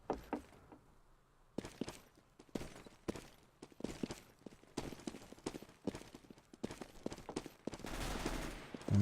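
Rapid gunfire bursts in a Counter-Strike style esports match, sharp repeated shots with short gaps across the whole stretch, some quick volleys, a denser loud burst near the end, no voices.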